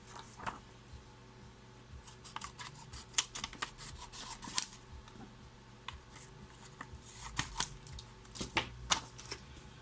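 Small scissors or a blade make faint, irregular snipping and scraping ticks while trimming the worn corners of an Apple Watch Series 4 screen. The sounds are close and quiet, with a low hum in the background and no speech.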